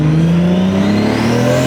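A Toyota Supra engine accelerates while driving, a loud close rising whine and drone heard from inside the car.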